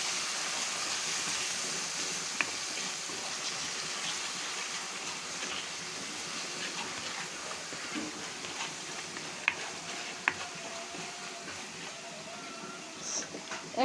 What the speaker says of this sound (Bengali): লবণ আধা চামচ দিয়ে মশলাটা ভালো মতো ভেজে নিচ্ছি।